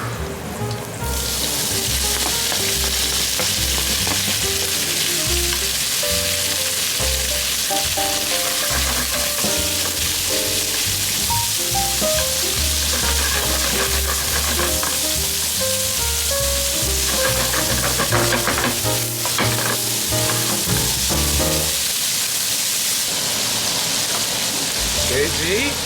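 Beef stir-fried in homemade flavored oil for beef and broccoli in oyster sauce, a loud, steady sizzle and crackle running continuously close up, with faint stirring scrapes throughout.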